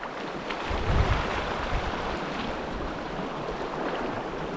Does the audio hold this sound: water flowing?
yes